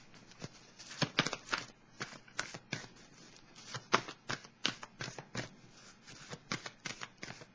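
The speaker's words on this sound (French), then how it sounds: "Ici, je vais piger une autre carte." Tarot cards being shuffled and drawn by hand, a close series of crisp riffling bursts and slaps in an irregular rhythm, quiet and dry with no voice.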